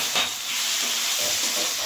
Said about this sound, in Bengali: আমি এইটা দিয়ে মশলাগুলো কষিয়ে নেব